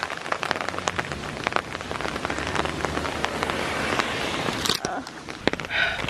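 Rain from Hurricane Agatha pours outdoors, a dense, continuous patter of drops striking surfaces around the listener, fairly loud throughout, with a few sharper splashes and faint voices in the background.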